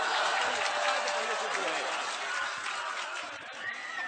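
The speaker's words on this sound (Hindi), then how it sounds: "फिर से एक बार तालियां आप बजाइए रेहान भाई के लिए" A mushaira audience in Azamgarh claps for the poet Rehan Hashmi, making a continuous wash of applause mixed with crowd voices that holds steady and fades slightly near the end.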